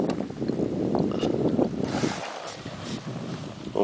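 Small outboard motorboat with an engine derestricted to 8 horsepower and a new propeller, running steadily on water with constant wind noise over the microphone throughout.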